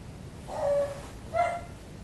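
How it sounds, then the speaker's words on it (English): A dog barks twice, two short separate woofs about a second apart, moderately close and alone over faint room noise. "And shut up, dog."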